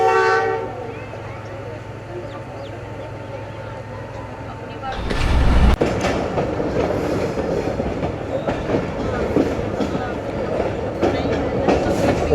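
A passenger train in Pakistan heading toward Lahore in heavy rain; after a quiet stretch with a horn tone, a loud surge sets in, then continuous rumbling wheel clatter close by, with someone talking over it.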